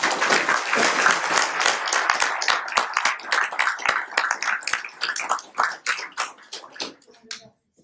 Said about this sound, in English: let's give a round of applause to all of our inductees for their job